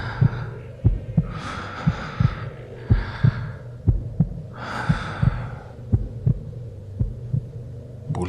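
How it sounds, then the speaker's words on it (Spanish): A slow, steady heartbeat thumps in regular double beats, deep and close, with heavy breaths sweeping over it now and then. "Escuché los latidos de mi corazón, mi respiración agitada"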